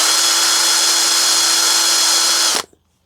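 A drill bores vent holes into foam inserts of an RC car tire, running as one loud, steady high-pitched whine for about two and a half seconds before cutting off abruptly into near silence.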